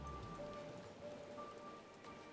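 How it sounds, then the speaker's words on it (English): Steady rain patters on surfaces in the Final Fantasy XIV game world, an even hiss of falling drops with a faint musical tone holding in the background. "it's raining"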